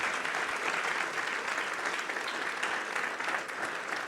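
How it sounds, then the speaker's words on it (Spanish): A church congregation applauds for the Lord, with steady, dense clapping held at an even level throughout and no voices standing out. "¿Quién le da un aplauso al Señor?"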